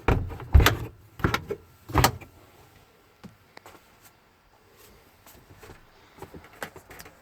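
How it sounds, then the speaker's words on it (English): A window on a 2017 Northern Lite 8'11 Q Classic SE truck camper slides shut, with a few sharp knocks and thuds at the start, then quieter faint rattles and shuffling. "And then you can close the window right back up."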